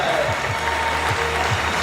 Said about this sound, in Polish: Wielkie brawa, wielkie brawa